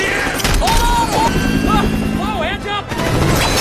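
A helicopter thrums steadily during an action chase scene, with loud rotor noise running throughout beneath excited voices talking over it.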